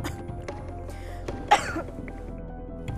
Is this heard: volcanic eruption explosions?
no